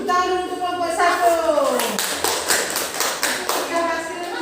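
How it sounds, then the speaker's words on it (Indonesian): Fourth-grade primary schoolchildren clap for a group in a classroom, steady applause building after a spoken prompt and continuing loudly with a voice heard over it. "Tepuk tangan dulu untuk kelompok 1."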